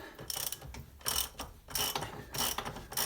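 Hand ratchet with a 27mm socket loosening the rear wheel of a Honda Blackbird motorcycle, four rhythmic clicking strokes in quick succession, close and crisp.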